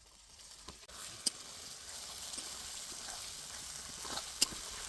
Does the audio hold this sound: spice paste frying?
yes